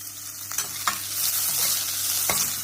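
Chopped onion frying steadily in a hot pan for a pulao, a continuous close sizzle with a few louder scraping stirs of a spoon against the pan.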